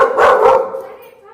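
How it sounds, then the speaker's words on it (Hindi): A dog gives one loud, close, brief bark that trails off quickly. "बहुत तेज़ तेज़ भौंकता है"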